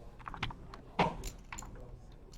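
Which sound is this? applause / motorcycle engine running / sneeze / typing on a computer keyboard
typing on a computer keyboard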